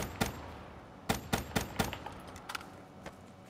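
Gunfire from a gun in the video game First Room Challenge, heard as a handful of sharp, irregularly spaced shots, with a quick burst of three or four in a row and fainter pops after.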